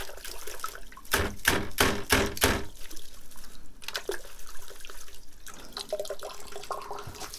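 Soil is rinsed off the roots of a winterberry (Gaultheria) plant in water, with bursts of splashing and sloshing followed by quieter trickles and drips, close up and moderately soft.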